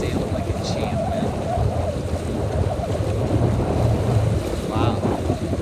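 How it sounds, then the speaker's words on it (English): Strong wind roars steadily on open water around a small Sabot sailboat during a junior sailing race, a continuous broadband rush with gusty swells and splashes, loud and close to the microphone. "Wow, this is good wind."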